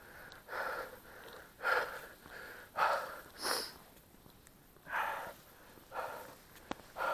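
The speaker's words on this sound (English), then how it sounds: "I bet you can hear me breathing." Heavy, rhythmic panting from a runner partway through a 5 km run, each breath a close, loud huff or gasp repeating every second or so, with no talking.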